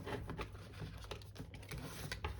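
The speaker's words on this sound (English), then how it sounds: "So as I shuffle the cards" Tarot cards being shuffled during a general intuitive reading, a steady run of soft, close riffling patters and flicks with no talking.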